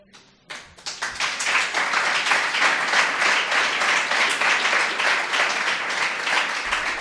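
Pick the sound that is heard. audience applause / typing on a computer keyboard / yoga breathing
audience applause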